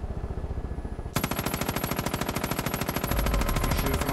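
Rapid automatic gunfire in Far Cry 5 aimed at a shrine, a fast even stream of loud close shots that grows denser and heavier after the first second, with no talking.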